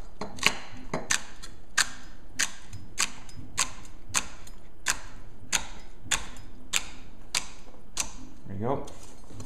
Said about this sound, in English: Next, we want to peel dice our celery, and we want, again, about 1/2-inch cuts